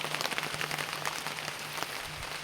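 Heavy rain falls steadily outdoors by a hut, a constant hiss of drops pattering on surfaces with occasional louder splashes, moderately loud and uninterrupted by any voices.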